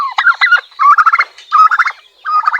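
An agitated farmyard turkey gobbles in several rapid, rattling bursts separated by short pauses, close and loud with no other sounds.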